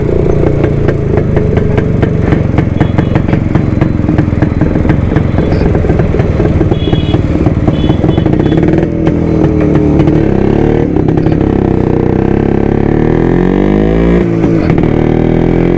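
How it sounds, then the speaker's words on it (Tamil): A Suzuki Shogun motorcycle engine runs loud and close, a dense clattering two-stroke idle that swells into revs and settles again across the whole stretch, with no talk over it. "வண்டி இன்ஜின் சூப்பராக இருக்குங்க."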